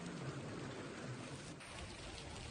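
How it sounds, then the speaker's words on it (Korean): Rain falls steadily during a hailstorm in Beijing, a dense, continuous wash of patter and splashes on surfaces, loud and unbroken throughout. "중국의 베이징에 13일 우박을 동반한 폭풍이 들이닥쳤습니다"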